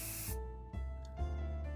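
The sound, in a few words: bug spray being sprayed in 60 Seconds! Reatomized video game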